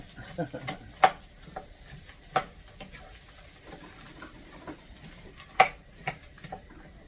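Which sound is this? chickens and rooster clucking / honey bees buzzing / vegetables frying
vegetables frying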